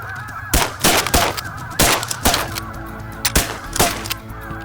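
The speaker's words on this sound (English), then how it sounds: "we have been swarmed by snow geese" Snow geese honk loudly and repeatedly in a dense flock overhead on the prairie during a hunt, a constant clamor with several sharp, loud bursts standing out nearby.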